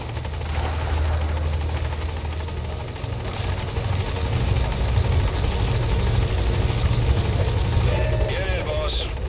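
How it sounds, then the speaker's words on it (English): Support helicopter from the video game Metal Gear Solid V: The Phantom Pain arriving at a landing zone, a loud steady rotor thump and engine drone held throughout, with voices talking over it. "Support helicopter has arrived."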